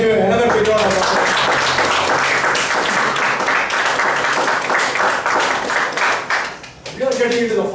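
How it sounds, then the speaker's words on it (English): An audience at a meeting claps steadily in a sustained burst of applause lasting several seconds, dense and close, fading slightly near the end, with a voice briefly audible at the start and finish. "let us give another big round of applause"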